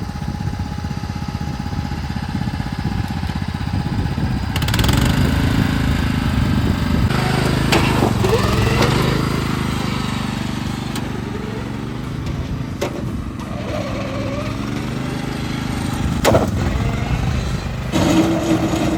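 A modified junk lawn mower, rebuilt to go fast, cruises in third gear at about half throttle, its small engine a steady, loud drone with shifting pitch throughout.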